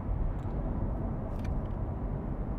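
A 2016 Corvette Stingray running in sport mode, a steady low engine rumble heard from inside the car, constant and fairly loud with no talk.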